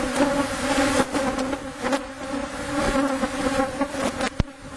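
Honey bees swarm around an opened hive, a dense, continuous close buzzing hum with faint scattered clicks and knocks.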